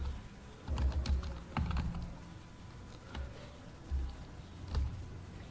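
Keys clatter on a computer keyboard as someone types, in short bursts of quiet, close clicks separated by pauses.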